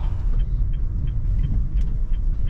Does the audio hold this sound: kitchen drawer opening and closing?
no